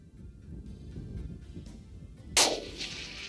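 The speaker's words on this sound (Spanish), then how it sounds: "Buen disparo." A single rifle shot fired during an international big-game hunt cracks sharply out of quiet outdoor rumble, its report ringing and decaying over the following second, with no talking.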